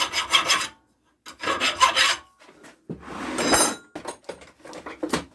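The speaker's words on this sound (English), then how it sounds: "File the burrs off the back of the hull." A metal file rasps burrs off the back of an Atari 7800 joystick controller hull in several short bursts of close, harsh scraping strokes with brief pauses between them.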